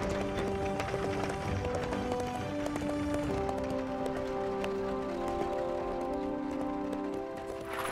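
A horse running beside a fire engine in the Fireman Sam cartoon. The hoofbeats are steady and rapid, heard under continuous music and effects, with no talk.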